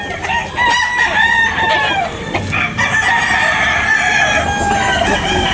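Chickens and roosters at a busy market, several birds clucking and crowing close by in overlapping calls over a low crowd murmur.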